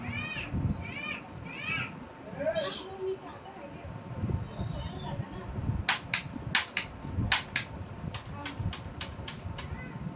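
Sharp toy cap-gun pops crack out in a quick string of about ten shots near the end, after children chatter and shout nearby.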